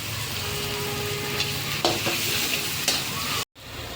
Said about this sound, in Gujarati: બટેટાનો સૂંદો છે ને નાખી દઈશું. થોડીક વાર હલાવશું.